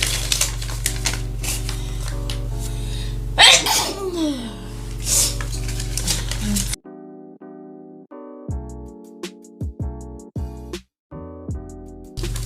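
A single sharp sneeze bursts out over a background of mechanical clatter and tones, followed by quieter tapping and electronic sounds.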